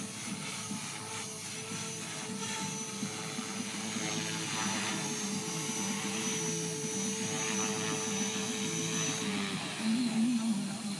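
A Trex 450 RC model helicopter with a 3GX flybarless unit flies nearby, its steady high-pitched rotor and motor whine holding at an even level throughout and rising slightly near the end, with no talking.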